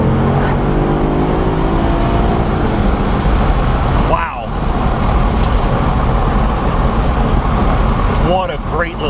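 A Maserati Quattroporte under hard acceleration, a loud continuous engine roar with a gear-change dip partway through and rising pitch sweeps, heard from inside the car with talk mixed in.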